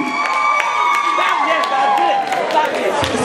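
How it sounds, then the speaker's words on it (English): A stand-up comedy audience at the University at Buffalo applauds and cheers for graduating seniors, with loud sustained clapping and whoops filling the room throughout. "Stand up, put your hands together for the graduating seniors."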